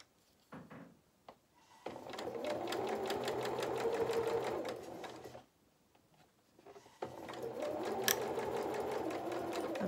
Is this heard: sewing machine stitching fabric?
yes